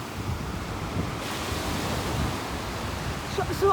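Ocean waves wash in at the Belmar Beach inlet, a steady broad roar of surf mixed with wind buffeting the microphone, fairly close and continuous.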